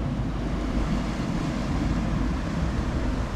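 Steady low rumble of surf with broad wash of water noise, constant and close, like waves rolling onto the shore with some wind buffeting.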